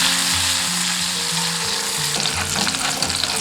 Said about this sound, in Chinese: 下入葱姜蒜炒